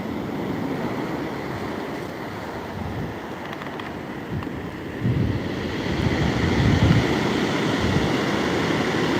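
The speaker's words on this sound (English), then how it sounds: "Good sized waves." Good-sized ocean waves churn and break on an agate-hunting beach, a steady broad wash of surf that swells louder in the second half, with no voices.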